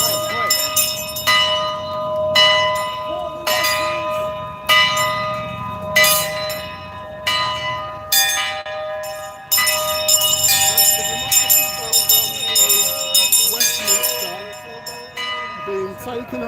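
A church bell tolls in repeated loud strokes with long ringing decay, heard outdoors during Independence Day, with people talking in the background under the bell.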